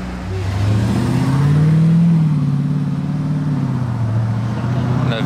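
A Mercedes G63 engine and exhaust revving loudly nearby, a deep rumbling tone that swells, holds and slowly eases off.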